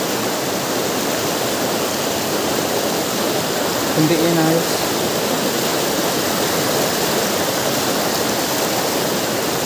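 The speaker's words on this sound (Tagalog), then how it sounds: "Ayan, ragasa ng tubig." A waterfall in Santa Cruz sends out a steady, loud roar of rushing water throughout, and a voice speaks briefly partway through.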